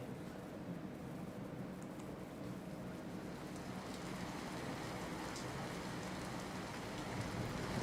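Heavy downpour in Sabarkantha district, Gujarat, a dense, steady hiss of rain falling on surfaces that stays even and continuous throughout, fairly faint and distant-sounding, with no voices.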